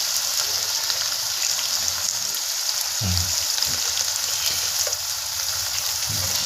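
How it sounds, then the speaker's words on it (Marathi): Potato pieces frying in oil in a pan over a wood-fired stove, a steady close sizzle with occasional soft stirring scrapes and no talk. "थोडा भाजून घेऊन तेलामध्ये भाजून घे बटाटा"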